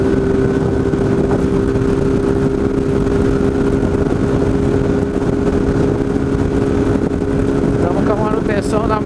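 A motorcycle running at top speed on the BR 267 highway toward Alfenas gives a loud, steady engine drone with constant wind rush throughout.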